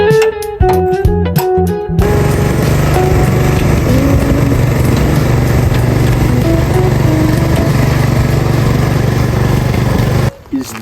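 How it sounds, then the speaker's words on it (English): A Craftsman lawnmower engine drones loud and close while towing a Porsche 911, a steady buzzing rumble that runs for about eight seconds and then cuts off, with a few short sharp sounds before it starts. "Is this the first ever Porsche 911 being towed by a Craftsman lawnmower?"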